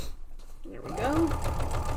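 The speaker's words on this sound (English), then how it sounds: "I'm just sewing down to my corner a little bit at a time." A sewing machine stitches fabric a little at a time toward a corner, running steadily and close for about two seconds, with faint voices in the background.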